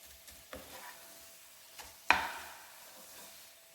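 A thick sweet coconut and jaggery filling is fried and stirred in a pan, with a low quiet sizzle and a few scattered scrapes, one sharper clack standing out.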